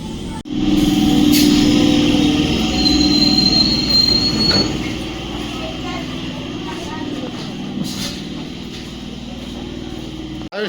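A train rumbling along the rails to Canning station with steady clatter, a sharp high wheel squeal early on, and brief clanks, loud and close throughout.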